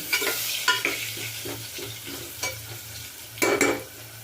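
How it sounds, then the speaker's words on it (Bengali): Potatoes frying in oil inside a pressure cooker and stirred with a ladle: a steady sizzle runs under repeated scraping, clinking strokes that come roughly every half second, close and fairly loud. "আলুগুলো একটু ভেজে নেব। প্রেশার কুকারে পুরো করি তো, তাই জন্য আমি একটা হাতা ব্যবহার করি"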